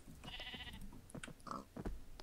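A pig in a video game squeals and grunts in several short, agitated bursts, fairly faint over a busy game soundscape.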